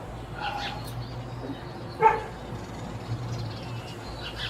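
A dog barks once from inside a house, a single short muffled bark in the middle of a quiet stretch with faint background noise.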